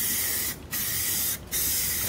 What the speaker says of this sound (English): we're gonna top it off with one more coat of Rust-Oleum Gloss Black